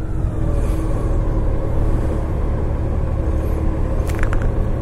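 A Honda Gold Wing GL1800 motorcycle rolls forward with a steady low engine rumble and wind noise, constant and close, with no talking.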